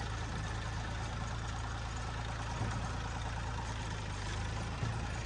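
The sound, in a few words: tractor engine idling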